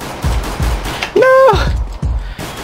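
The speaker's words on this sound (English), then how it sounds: "How many shots was that? 6 shots" Gunshots from Counter-Strike: Global Offensive ring out as a quick series of sharp, loud cracks, with a brief tonal in-game effect in the middle of the volley.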